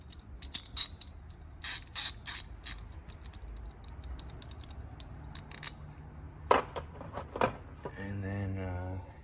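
Gearwrench 90-tooth ratchets from sets 81206T and 81207T click in short bursts of quick, fine ticks, close and fairly quiet, with a brief voice near the end.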